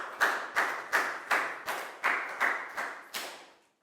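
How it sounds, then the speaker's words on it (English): Classroom of Year 4 pupils clapping for a classmate, about eight sharp, evenly spaced claps in a steady rhythm, close and moderately loud, fading out at the end with no talk. "Round of applause for Pak Bung."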